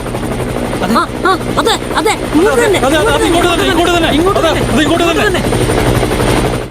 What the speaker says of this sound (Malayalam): ഹെലികോപ്റ്ററിന്റെ ശബ്ദം കേൾക്കുന്നുണ്ട്